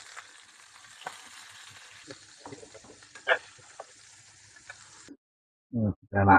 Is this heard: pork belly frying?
yes